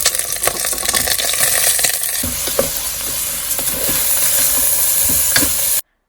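Washed rice frying in ghee in a pan with salt and ginger paste gives a dense, steady sizzle broken by scattered stirring scrapes and clicks, ending abruptly.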